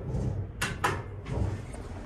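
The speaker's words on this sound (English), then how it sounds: "Door close button works." The door of a parking garage elevator closes at night, giving a brief sliding rumble and two sharp clunks in quick succession, close and fairly loud.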